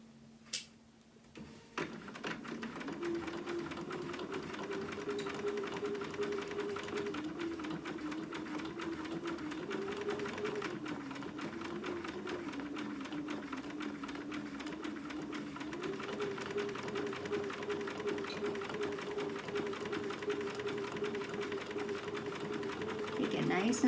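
A sewing machine runs steadily, topstitching a mouse dress dog outfit in contrasting thread, its motor a continuous close whirring hum that shifts slightly in pitch and holds for the whole stretch after a brief start.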